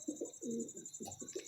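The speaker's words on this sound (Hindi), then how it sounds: "ये रामपुरी इनके कबूतर हैं ये, और बहुत ही लाजवाब ये कबूतर हैं" Rampuri pigeons coo softly at close range in a series of short, throaty, rolling calls, with a faint steady high whine behind them.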